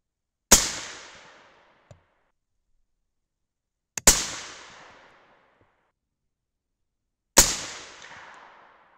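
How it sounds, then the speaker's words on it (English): Three loud, sharp 6.5 Creedmoor rifle shots a few seconds apart, each ringing out and fading, with faint clicks from the firing mechanism and a slight hang fire delaying ignition; no talking. "Little bit of hang fire that time."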